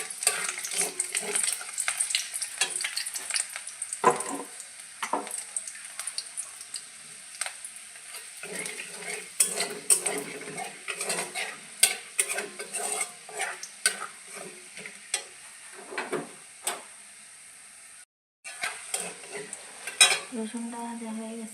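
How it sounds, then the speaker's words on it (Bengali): Chopped garlic sizzles in leftover oil from frying chicken for sweet and spicy Korean chicken, with a spatula stirring and scraping the pan in frequent close bursts over a steady frying hiss, with no one talking. "এর মধ্যে দিয়ে দিলাম রসুন কুচি"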